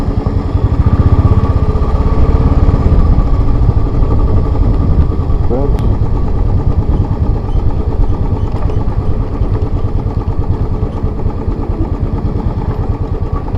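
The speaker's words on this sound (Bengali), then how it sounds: "সামনে যে দাদাটা যাচ্ছে বাইক নিয়ে" A motorcycle engine runs steadily and loudly throughout on an off-road track in Meghalaya, a constant close mechanical drone with wind-like rumble and no clear breaks.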